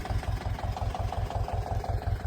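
A Mahindra tractor engine runs steadily in a farm field during ploughing, its low rhythmic chugging pulsing evenly and close throughout, with no voices.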